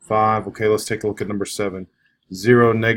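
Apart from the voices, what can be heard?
None of the usual background noises is heard.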